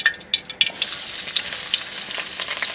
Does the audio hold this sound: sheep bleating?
no